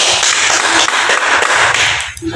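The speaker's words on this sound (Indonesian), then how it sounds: "Tepuk tangan untuk kelompok 1." A classroom group claps for the first team, a dense burst of many hands clapping loudly and close for about two seconds before tapering off.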